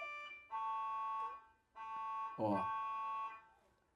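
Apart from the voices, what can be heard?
ambulance siren passing outside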